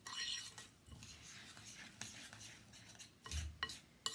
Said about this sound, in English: You're going to stir in mixture, stir it really well together so it's very well blended.